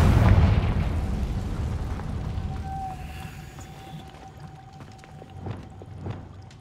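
A Confringo fire spell explodes in Hogwarts Legacy with a deep, booming blast that rumbles and slowly fades, followed by softer magical thuds and a faint ringing tone.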